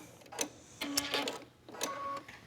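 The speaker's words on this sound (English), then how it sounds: "And we're going to sew the opposite side down." A sewing machine stitching a quilt seam in short bursts, its quick mechanical whirring starting and stopping three times, close but fairly quiet.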